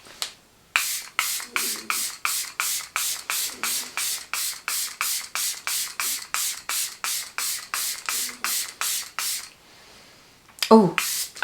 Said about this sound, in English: Oh, I like how that sprays.